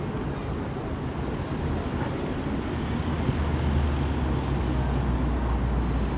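Number 8 trolleybus pulling away on a city street beside a cathedral, a steady low electric hum and road rumble rising slightly over a wash of surrounding traffic noise.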